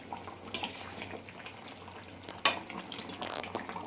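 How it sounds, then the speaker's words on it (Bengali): Goat meat curry with ground garam masala being stirred in a pan, with soft scraping and clinks of the utensil against the metal over a low sizzle, two sharper knocks standing out. "গরম মশলাটাকে দিয়ে ভালোভাবে আবার একটু নেড়ে চেড়ে দিচ্ছি।"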